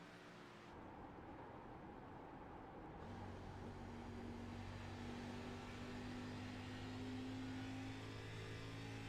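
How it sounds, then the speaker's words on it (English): A race car engine drones at sustained high revs in a racing video game at Nashville Superspeedway, rising slightly in pitch and holding steady as a continuous, fairly loud hum. "Have a listen to the motor of Jordan Bain"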